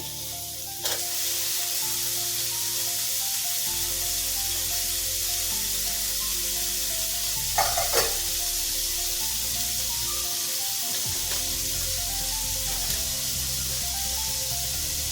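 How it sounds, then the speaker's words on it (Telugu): Moong dal and boiled carrot pieces fry in a pan with a steady, even sizzle and hiss throughout, broken by a few brief stirring scrapes and clatters. "పెసరపప్పు కొద్దిగా వేగాక ఉడికించి పెట్టుకున్న క్యారెట్ ముక్కలు వేసుకోవాలి."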